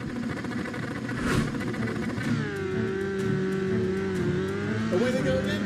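Race cars pulling away at a restart, engines rising together in a steady loud drone with one rising tone standing out, while a commentator talks over the noise.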